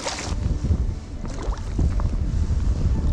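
Gusting wind buffets the microphone on a lake while someone fishes from a boat, a loud, continuous low rumble that swells and eases with the gusts.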